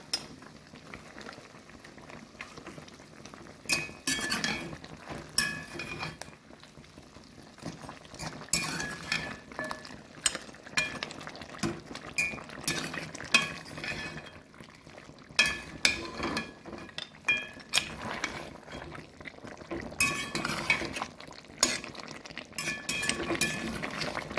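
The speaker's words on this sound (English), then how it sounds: "I'm gonna give that a stir." Beef stew bubbles in a pot on the stove while a spoon stirs it, giving soft simmering burbles broken by scattered light clinks and scrapes against the pot, fairly quiet throughout with no speech.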